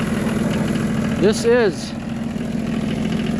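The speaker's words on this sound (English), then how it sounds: "John Deere 1050. It's kind of a unique old tractor." A 1985 John Deere 1050 tractor engine idles steadily just after a cold start in snow, a low continuous rumble that runs throughout while someone speaks briefly over it.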